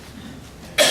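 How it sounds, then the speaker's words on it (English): A single short, sharp cough bursts out at the very end after a stretch of quiet room tone. "See, made me cough."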